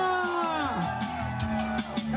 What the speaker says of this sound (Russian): Аплодисменты! Ура!